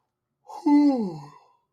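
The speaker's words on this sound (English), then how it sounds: "ignore my yawn" A single close, brief human yawn rises and then trails off with a falling, breathy tone, alone in otherwise quiet surroundings.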